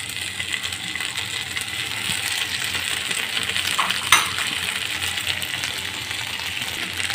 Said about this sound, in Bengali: এখন ভালো করে সসটা নুডলসের সাথে মিশিয়ে নেব।